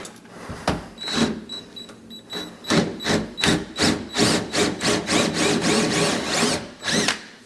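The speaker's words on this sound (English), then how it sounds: "Let's drill this hole out so it's big enough." A power drill whines in repeated short bursts while enlarging a hole in a wall, revving up and easing off in a steady rhythm, close and loud.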